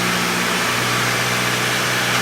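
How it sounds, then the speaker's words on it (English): Car with a European 4motion transmission running steadily as it downshifts on its own, a constant loud engine drone with a low hum and no distinct shift bumps, without talking. "It shifted by itself just fine, so let's downshift."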